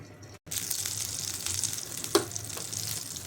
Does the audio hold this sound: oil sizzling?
yes